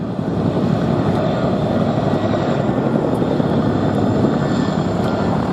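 An RAF Chinook helicopter at the Duxford air festival roars loudly and steadily overhead, a dense, unbroken rotor-and-engine drone with no pauses.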